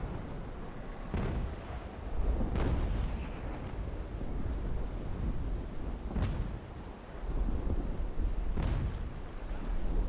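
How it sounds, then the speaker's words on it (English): Broadside cannon volleys from sailing warships in a Naval Action open-world fleet battle against pirates, with several booming shots spaced a few seconds apart, each followed by a rolling rumble over steady wind and sea noise. "we just were firing willy-nilly instead of we should have let our cannons recharge"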